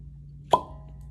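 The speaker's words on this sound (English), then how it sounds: "So pop the cork." A single sharp cork pop from a Blanton's single barrel bourbon bottle, close and brief, followed by a short ringing tail against a low steady hum.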